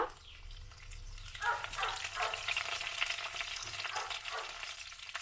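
Coconut pieces and curry leaves frying in oil, a faint, crackling sizzle with a few stirring scrapes and short bursts of spattering.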